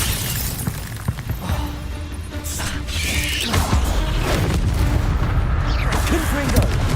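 Confringo blasting spell in Hogwarts Legacy: loud game combat with booming bursts, crackling impacts and mechanical clatter layered over a dense continuous rumble, close and busy throughout.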